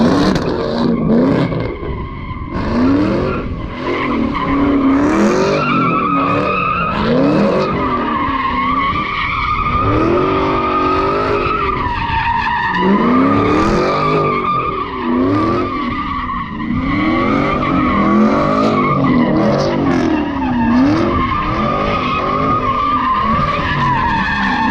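A 3-valve Ford Mustang swings out hard, tires squealing in long repeated wails over a loud, revving V8 engine, close and sustained throughout.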